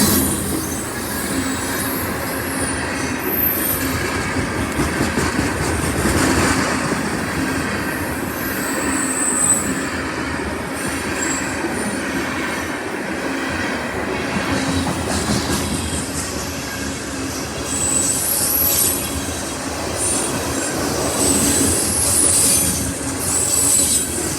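A long CSX freight train rolls past close by, with a continuous loud rumble, clattering wheels over rail joints and intermittent high wheel squeal throughout.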